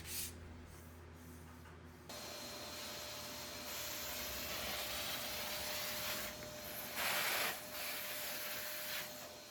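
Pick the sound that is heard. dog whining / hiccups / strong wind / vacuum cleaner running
vacuum cleaner running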